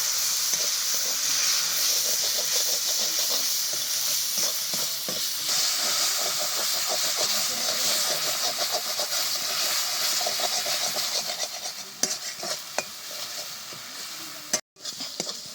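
Spice paste with turmeric, salt and a splash of water fries hard in a pan, giving a loud continuous hiss and sizzle with stirring scrapes that break up briefly near the end.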